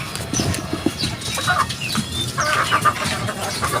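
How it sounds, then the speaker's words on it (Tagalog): Hungry chickens cluck and squawk in a cluster nearby, overlapping short calls scattered over a low background rumble, with some rustling and wing movement. "So nagugutom na yung mga manok ko mga kabuli"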